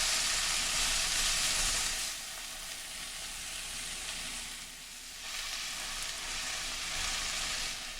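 Wild creek greens wilt in a cast iron wok, a steady close sizzle and hiss that swells and dips as the leaves are stirred around.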